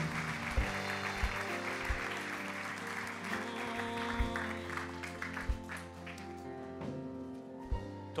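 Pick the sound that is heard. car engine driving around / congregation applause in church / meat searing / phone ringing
congregation applause in church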